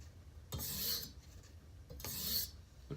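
A Kitchen Aid knife is polished on a TSPROF sharpening stone, giving two soft, close rasping strokes about a second long, separated by near silence.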